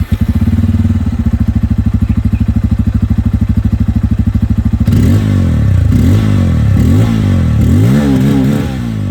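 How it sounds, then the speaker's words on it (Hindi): A 2024 Bajaj Pulsar N250 motorcycle with a dual-barrel exhaust, heard up close: a steady, rapid thumping idle for several seconds, then a series of sharp throttle blips that rise and fall in pitch, loud and alone. "लेकिन सबसे पहले मैं आप लोगों को यहाँ पर जो N250 की आवाज़ है ये यहाँ पर मैं आप लोगों को सुना देता हूँ।"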